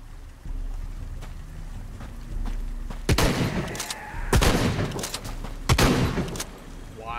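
Gunfire in the video game Shadow of the Tomb Raider, with three or four loud, sharp shots breaking out after a stretch of low ambient rumble, each ringing briefly before the next.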